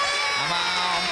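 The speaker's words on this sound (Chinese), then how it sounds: "掌声再次鼓励" A TV studio audience on a variety game show applauds and cheers in a dense, steady wash of crowd noise, with bright tonal voices or music mixed in throughout.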